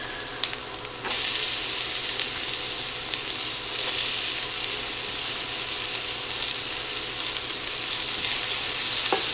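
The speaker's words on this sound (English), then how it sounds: "I'm going to go ahead now and add my onions." Chopped onions hit a hot pan while cooking a cheesesteak and pasta casserole, bursting into a loud, steady sizzle that holds continuously for several seconds, with faint stirring scrapes and no talking.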